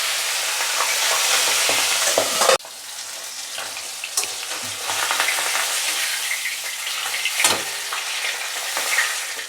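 Pabda fish fry in hot oil in a wok with a loud, crackling sizzle. The sound drops sharply for a moment, then keeps bubbling with scattered pops and spatters, up close and with no voices.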